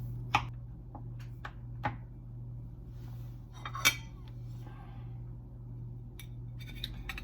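Cutlery cutting into a chilled vegan, gluten-free pecan pie, quiet scattered clicks and taps of metal on a plate with one sharper clink, soft and close over a low steady hum.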